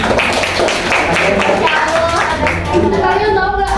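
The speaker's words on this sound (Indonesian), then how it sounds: "tepuk tangan udah" Students in a classroom clap in a dense, continuous burst of applause, with voices mixed in throughout.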